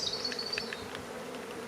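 Honey bees buzz around an opened beehive during a hive inspection, a soft continuous hum with a few nearer wingbeat passes, faint and close, with no voices.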